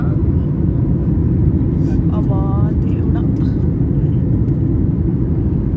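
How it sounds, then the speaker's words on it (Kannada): A loud, steady jet engine roar fills the cabin, heard from a seat beside the wing as an airplane takes off, continuous and unchanging, with a brief spoken exclamation partway through. "ಫ್ಲೈಟ್ ಟೇಕ್ ಆಫ್ ಆಗ್ತಿದೆ ಈಗ"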